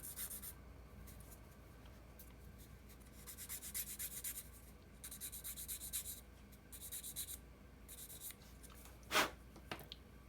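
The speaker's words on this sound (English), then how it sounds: "take a sanding stick or even a knife blade to scrape it and just knock it down like this" Soft, close scraping of a sanding stick on a plastic part of a Tamiya 1/35 M21 half-track model in repeated short strokes, quiet and rhythmic, ending with one sharper scrape.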